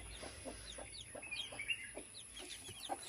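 Young chicks on a farm cheep in quick, high, repeated chirps, with a few deeper clucking notes mixed in. The sound is fairly faint and sits over a steady background hum.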